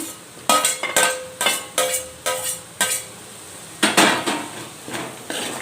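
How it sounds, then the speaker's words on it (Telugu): Raw prawns tipped into a pan of tomato curry, heard as a run of about a dozen sharp metallic clinks and scrapes of spoon against pan in uneven bursts, close and fairly loud, with no talking. "ఇప్పుడు ఇందులోనే రొయ్యలు కూడా వేసేసుకుందాము"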